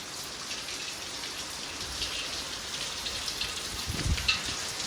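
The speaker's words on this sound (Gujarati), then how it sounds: "જબરદસ્ત અત્યારે વરસાદ ચાલુ છે" Rain keeps falling in a steady, dense hiss outside, at moderate loudness, with a few louder splashes of drops near the end and no voices.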